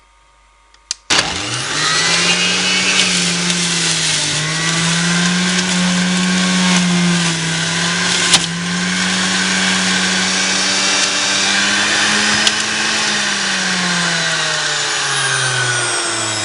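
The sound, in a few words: Electrolux juicer running, juicing apples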